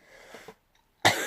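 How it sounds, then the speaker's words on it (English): A person gives a single sharp, close cough near the end, after a brief rustle and a moment of silence. "Just coughed all over my screen."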